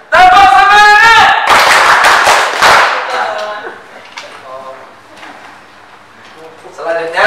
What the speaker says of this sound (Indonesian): Bisa nggak kalau kita tepuk semangat?